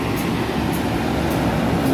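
A Walahar commuter train running from Cikarang to Purwakarta gives a steady, loud rumble with a continuous low roar and faint rhythmic rail noise, no voices over it.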